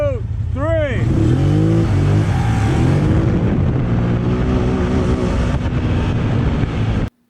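A Can-Am G3 Outlander ATV in a drag race pull revs sharply twice, then surges into a loud, rising engine roar that climbs through the gears, close up, before cutting off abruptly, with talk mixed in.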